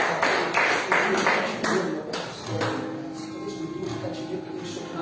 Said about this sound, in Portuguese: Dá uma salva de palmas no Senhor Jesus Cristo